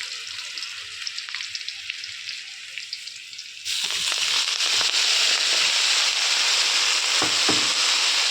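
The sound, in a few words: leafy greens frying in a pan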